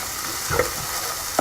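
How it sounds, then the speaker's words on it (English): Spices fry in a curry pan for Singapore noodles, a steady close sizzle broken by a couple of light scraping stirs, with no talk. "So you really just want to fry off those spices quite well, but be careful not to burn them."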